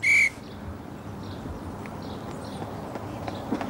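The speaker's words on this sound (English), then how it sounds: "When I blow the whistle, begin." A single short, shrill whistle blast rings out at the very start inside a prison yard, followed by quiet shuffling footsteps of women running on the spot.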